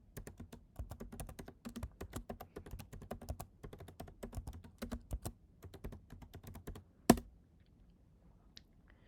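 Rapid keystrokes clatter on a computer keyboard in quick bursts while an airport route is entered, ending with one sharp louder key press and then near silence.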